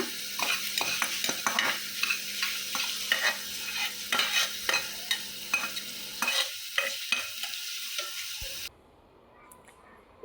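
Mung beans being stirred into oil in a pan, with repeated scraping strokes over a continuous sizzle, close and fairly loud, before the sound cuts off near the end.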